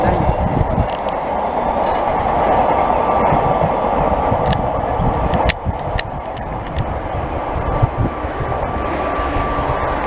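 A long freight train rolls past on the rails near a level crossing between Onuma and Konuma, a steady loud rumble with clattering wheels and brief high squeals throughout, with faint voices talking over it.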